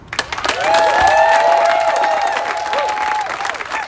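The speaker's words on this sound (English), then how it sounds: "we applaud Senator Susan Rubio as one of our state's leading arts champions" Audience applause breaks out at an SB805 press conference on funding for small nonprofit performing arts organizations, building quickly into steady, loud clapping with a few whoops and cheers that holds for several seconds before thinning out.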